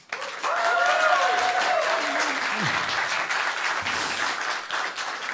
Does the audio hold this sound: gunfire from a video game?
no